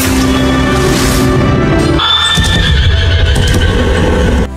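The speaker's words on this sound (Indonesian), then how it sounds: "Shao Shang pun datang menggunakan kuda" A horse whinnies loudly and close, a long wavering neigh with strong harmonics that breaks into a second, shriller call partway through, set over a low rumbling background.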